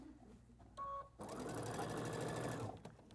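A sewing machine stitches quilt flying-geese patches, running in a steady fast whir for about a second and a half after a brief click and beep, close and clear.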